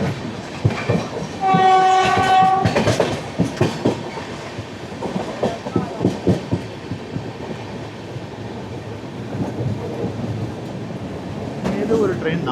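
A train made up of an LHB rake passes close by, a loud horn blast near the start, then rhythmic clickety-clack of wheels over rail joints fading and swelling again.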